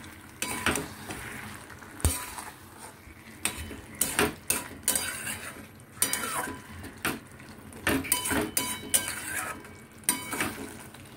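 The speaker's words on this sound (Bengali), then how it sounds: "এবার চিনিটা দিয়ে ভালো করে মিশিয়ে তারপরে আরেকটা কাজ আছে" Sugar being stirred into ridged gourd, potato and pointed gourd in a pan, with repeated scraping and clanking of a utensil against metal and a faint sizzle underneath, close and uneven in rhythm.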